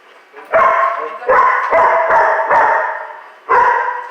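During a training lesson, a puppy lets out several short, sharp barks up close in an uneven series, with gaps between the bursts.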